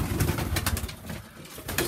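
Pigeons in a loft, with soft cooing and rustling close by, fairly quiet and steady, and a few brief flutters mixed in.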